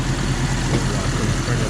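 Jeep Cherokee XJ engine idling with a steady low rumble, close and continuous for a moment without other sounds.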